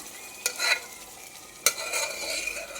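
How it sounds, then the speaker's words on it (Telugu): Cooked lentils tipped into a hot tempering and stirred, giving two sharp splashing sizzles with a steady frying hiss in between, close and moderately loud with no talking. "ఈ విధంగా మనం పప్పు అలా తాలింపులో వేసుకోవాలండి"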